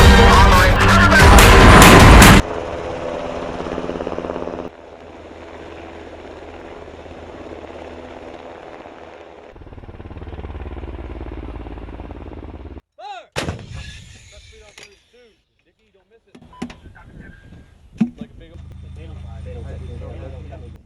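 A tank cannon in a US tank division exercise fires a round with a very loud, sharp boom. A long rumbling roar and engine drone follow, then several further scattered bangs.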